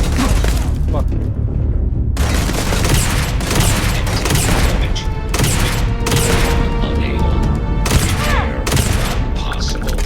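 Rapid gunfire from the player's weapon in the space game Starfield, dense repeated bursts of shots and booms running nearly continuously, loud and close, with a voice talking over the action.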